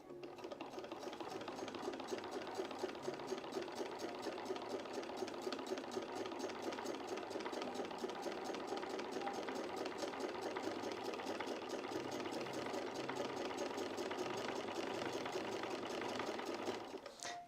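A sewing machine stitches fabric at a slow, steady pace with a slightly blunt needle, a continuous close mechanical whirr and clatter of repeated needle strokes running on alone, with no talking.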